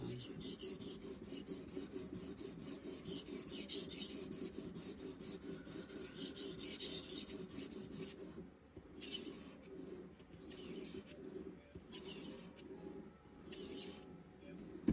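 A knife tip is drawn over the abrasive of a Cheefarcuut guided knife sharpener in steady, continuous rasping strokes, close and fairly loud, with the stroke rhythm turning choppier and more broken in the second half.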